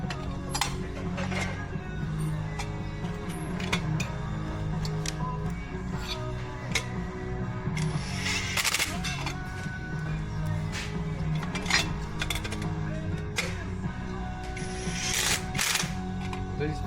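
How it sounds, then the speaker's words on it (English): Repeated creaking, grinding squeaks of Loctite-secured screws being turned out of a Stihl 462 chainsaw, ratchet-like clicks and bursts of metallic scraping, close by with some background murmur. "These bottom screws have Loctite on them, so that's why it's going to sound like I'm cross-threading it"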